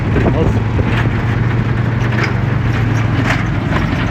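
Race cars with slick and intermediate tyres pull away through the British GT support paddock, a loud, steady engine rumble mixed with broad noise that continues throughout, with a voice talking over it.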